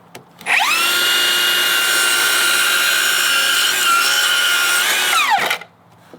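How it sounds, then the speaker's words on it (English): Metabo HPT 7-1/4-inch dual bevel miter saw cutting a 45-degree compound miter in wood: the motor spins up, a loud steady whining cut lasts about five seconds, then it winds down, close and alone. "All right, so now I'm gonna do a 45 compound miter."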